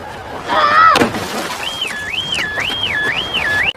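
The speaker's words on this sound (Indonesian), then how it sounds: "Ia pun mencoba memecahkan kaca." Glass in a car window smashes in one sharp, loud crash, followed by a warbling, whistle-like tone that rises and falls over a steady noisy background.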